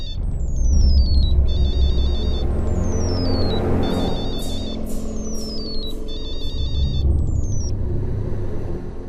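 A phone rings indoors: repeated electronic tones sliding downward, with bursts of short beeps, over a low rumble of traffic.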